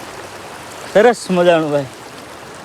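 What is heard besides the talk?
stream water flowing at a water crossing near Bhalkhet waterfall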